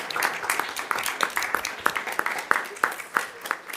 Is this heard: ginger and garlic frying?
no